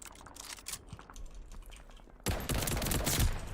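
Rapid bursts of M1 Garand semi-automatic rifle gunfire in Call of Duty: Vanguard crackle, quieter at first and then suddenly louder and denser, with sharp repeated shots in quick succession.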